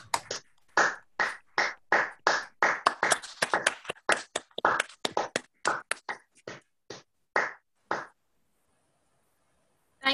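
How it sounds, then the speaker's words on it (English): Participants in an online debate clap on unmuted microphones, sharp, close individual hand claps in a quick, slightly uneven rhythm that thins out and stops, leaving a near-silent gap before one last clap. "Everyone, please unmute your mics and let's have a round of applause for all the participants in today's fun debate."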